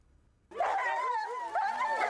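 Sled dogs at a canicross race in Bischheim give excited, wavering whines and yips that start abruptly and continue close and loud without pause.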